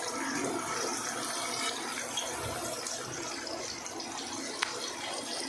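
A batch of onion tipped into hot oil for a chicken dum biryani gravy gives a steady, close, hissing sizzle that holds evenly for several seconds, with one brief sharp crackle near the end and no voices.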